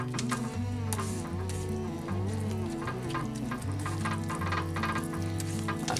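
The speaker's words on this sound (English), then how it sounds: "I'm gonna do a little mixing again." An electric stand mixer works sweet dinner roll dough, with a steady motor whir under repeated soft slapping and scraping from the dough hook, close and continuous throughout.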